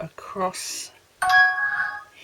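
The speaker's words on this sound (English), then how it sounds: "sorry about that, that's my phone" A mobile phone gives a bright chiming notification tone that rings out and sustains briefly after a spoken word during a card-stamping craft session, close and fairly loud.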